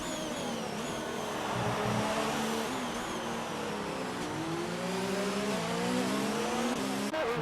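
Race car engine in a racing video game pit entry, a steady droning whine that rises and falls as the car slows, loud and continuous with a brief click near the end.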